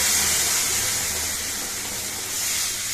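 Hot spice tempering (phoron) poured into sour mango dal in a home kitchen, giving a steady, loud, broadband sizzle and hiss that holds for the whole stretch with no talking.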